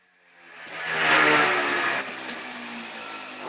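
A Husqvarna cut-off saw with worn clutch springs, its blade spinning even at idle, starts up; the engine swells to a loud, buzzy roar within a second, then settles into a steady running drone.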